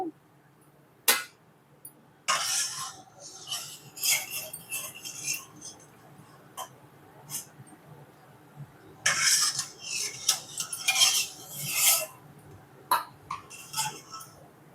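Fried homemade biscuits are lifted from the pan and dropped onto a plate, giving scattered light scrapes, clinks and rasping taps in irregular bursts, close and fairly quiet.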